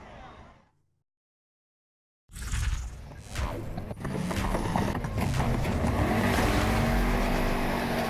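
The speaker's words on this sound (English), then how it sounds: "I got the 65 Ford Mustang all set up to go off-roading" A 1965 Ford Mustang set up for off-road rally racing in NFS Heat, its engine roaring loud and steady after a brief silence, with rough surface noise and a voice speaking over it.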